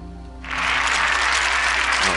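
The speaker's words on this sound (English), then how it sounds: "they're all clapping" A virtual crowd in the city-building game Sim City Societies breaks into applause, a dense burst of clapping that starts abruptly and holds steady at close range.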